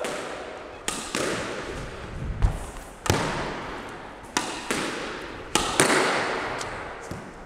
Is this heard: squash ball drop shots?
yes